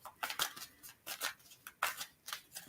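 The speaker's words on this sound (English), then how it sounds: "I'm shuffling." Tarot cards shuffled by hand in soft, quick riffling bursts, faint and close, repeating in an uneven rhythm.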